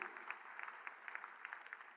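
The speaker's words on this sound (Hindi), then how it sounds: "आप जोरदार तालियां बजाएं" Crowd applause at a community foundation-day event in Delhi, a steady sustained patter of clapping heard somewhat faintly from a distance, with no talk over it.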